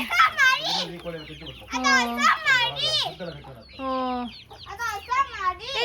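A hen clucks while chicks peep in high, bright chirps, mixed with the voices of children nearby.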